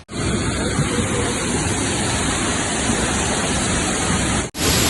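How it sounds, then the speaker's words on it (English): A natural hot waterfall in Old Tbilisi, Georgia, pours with a constant loud hiss and rush of water that stays even from start to end. "that's the natural hot waterfall"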